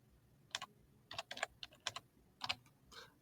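Keys on a computer keyboard are tapped in short, quick bursts, a handful of soft clicks at a time with brief pauses between them. The typing is close and quiet, with no speech.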